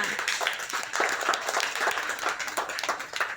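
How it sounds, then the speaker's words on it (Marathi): Schoolchildren clap loudly together, making dense, continuous applause that stays strong and close from start to finish, with little talk. "जोरात टाळ्या वाजवायच्या"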